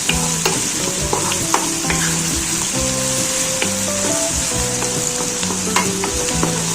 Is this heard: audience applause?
no